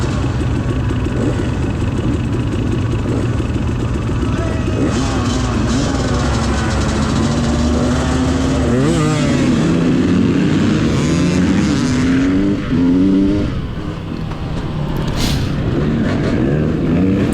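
Several dirt bike engines run together on the line at a hare scramble race start, a loud, continuous drone with revving rising and falling in pitch throughout, heard up close, with no voices.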